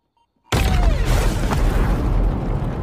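A robot bomb detonates in a science-fiction film about humans at war with artificial intelligence: a sudden loud boom after half a second of near silence, followed by a sustained roaring rumble with a descending whistle-like tone fading through the blast.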